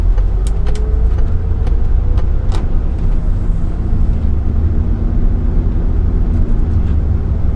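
A tour bus drives through downtown Ottawa on a Saturday, its engine making a steady loud low rumble with road noise throughout and a few brief clicks and rattles from the cabin, no talking.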